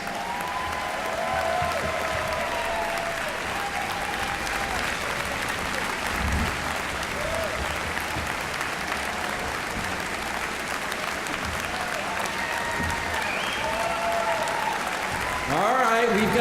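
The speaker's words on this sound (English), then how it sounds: "How about one big round of applause for the 2014 class of inductees?" Sustained applause for a 2014 hall of fame class of inductees from a large banquet audience, steady and even throughout, with a few whoops and voices rising above it and a louder swell at the very end.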